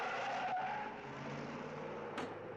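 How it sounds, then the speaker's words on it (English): A stolen car speeds away with its tires squealing and skidding, a loud sustained screech over revving engine noise that holds for a couple of seconds. "Tim Conway is stealing my car"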